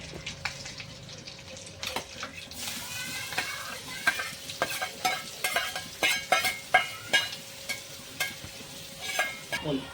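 Chopped onions sizzle in a pan for pav bhaji while a spoon stirs them, giving a steady close frying hiss broken by frequent scraping clinks that grow denser and louder toward the end. Nobody speaks.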